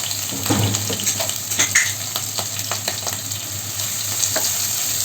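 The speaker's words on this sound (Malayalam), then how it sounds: "അത് ചൂടാകുമ്പോൾ നമുക്കതിലേക്ക് ചതച്ച് വെച്ചിരിക്കുന്ന ഉള്ളി വെളുത്തുള്ളി അതോടൊപ്പം തന്നെ കുറച്ച് വേപ്പില ഇത്രയും ചേർത്ത് ഒന്ന് മൂപ്പിച്ചെടുക്കണം" Crushed onion, garlic and curry leaves frying in hot coconut oil for Thrissur-style payar mezhukkupuratti, a loud, continuous crackling sizzle close by, with occasional stirring clinks and no voices.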